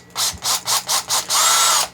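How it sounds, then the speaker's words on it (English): A power drill whirs in five short bursts, then runs in one longer steady spin undoing a stripped screw, loud and close with no talking. "Now, can the drill undo it?"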